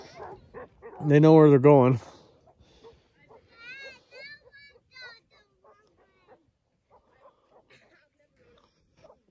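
Herding dogs rounding up cows bark in a loud, dense burst of yips and bow-wows for about a second near the start, then only faint scattered sounds remain while people talk.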